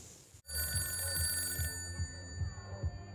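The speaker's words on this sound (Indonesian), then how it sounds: "Alhasil suara telepon berdering pun sampai tidak terdengar" A telephone rings repeatedly in a scene from the horror film The Conjuring 3, its steady periodic pulses sitting under loud music that nearly drowns it out.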